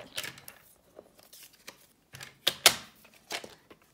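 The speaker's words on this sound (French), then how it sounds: "on va venir couper" Paper cut for a hexagonal map, a series of short crisp snips and rustles, close and fairly quiet, with a few louder cuts in the middle.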